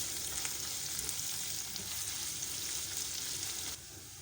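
Sliced small onions fry in a hot pan toward golden brown, giving a steady, close, even sizzle that runs unbroken before dropping slightly quieter near the end.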